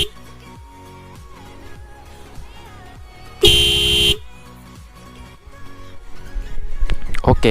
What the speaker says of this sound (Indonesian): Kayak gini klaksonnya.